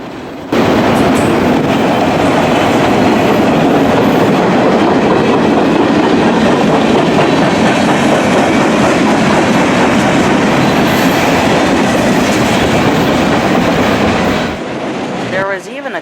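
A long CSX or NS freight train carrying auto racks rolls steadily past close by, a continuous loud rumble and rattle of cars that cuts off abruptly near the end.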